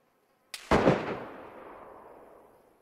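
A single sharp gunshot in an online shooter game, preceded by a small click, cracks loudly and rolls off in a long fading echo.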